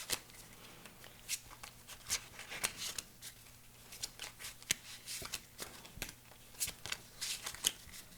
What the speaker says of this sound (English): I got to shuffle my deck because, again, I have no deck, so I have to shuffle my discard pile and draw 5 new cards.